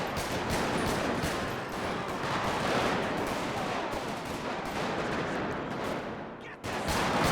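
Sustained gunfight in GTA 5 with the LSPDFR police mod during a neighborhood shootout, dense overlapping bursts of gunfire rattling loudly and continuously, with a short dip near the end.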